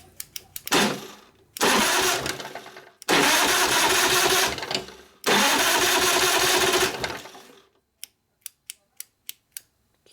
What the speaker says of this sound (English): so now we're going to see how the thing cranks